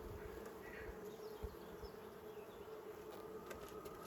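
A honey bee swarm buzzes steadily at the hive while a full frame dripping with honey is being handled, a dense, continuous drone that holds close and even throughout, with no talk over it.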